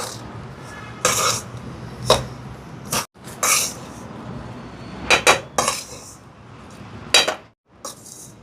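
Rava laddu mixture is mixed in a pan, with a spoon repeatedly scraping and clinking against the metal in irregular bursts and short pauses between strokes.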